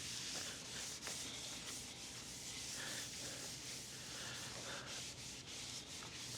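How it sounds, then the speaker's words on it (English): A cloth wipes excess oil off a wooden cutting board, a steady, close rubbing and scrubbing that runs unbroken throughout. "I'm just going to wipe off the excess now"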